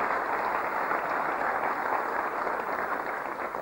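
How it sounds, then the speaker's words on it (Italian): Studio audience applause on an Italian television variety show, a steady, dense wash of clapping at moderate level throughout, with no voices standing out. "Questo è l'applauso per l'appuntamento e per lei."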